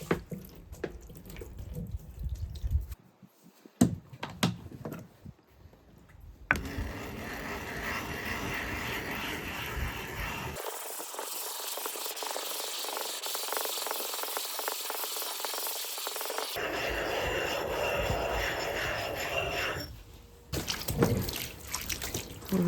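Water rinses a lithography stone after graining with 80 grit: running and splashing water with drips and trickles, shifting between gentle spatter and a steady, fuller flow in the middle, fairly close.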